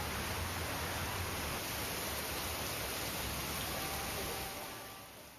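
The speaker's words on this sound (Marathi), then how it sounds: "पुण्यामध्ये प्रचंड पाऊस पडतोय" Heavy pre-monsoon rain pours down on Pune city streets, a dense, even hiss that holds steady for several seconds before fading slightly at the end.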